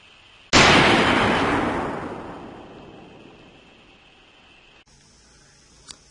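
A single loud .223 rifle shot fired at half-inch shock-resistant soft steel outdoors, a sharp crack followed by a long rolling echo that fades over several seconds, with a faint tap near the end.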